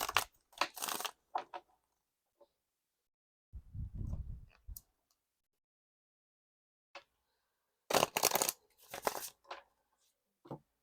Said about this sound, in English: I'm going to shuffle this a couple of times because I read it upright and reverse